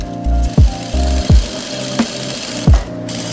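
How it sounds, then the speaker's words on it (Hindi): Sewing machine running in short bursts while stitching salwar fabric close to the edge, with a steady motor whir broken by sharp clacks as the work is adjusted between runs; no one speaks. "ये सिलाई मैं बिल्कुल टेट्रोन के नज़दीक, बिल्कुल ही पास में लगा रहा हूँ"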